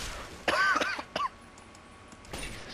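Two short rough coughs close together, then a softer third cough after a brief pause, close and fairly quiet in a still room.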